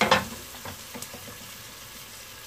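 Ingredients for mutton curry frying in a pan: a short burst of sizzle at the start, then a quiet, steady crackle with a few faint clinks and no talking.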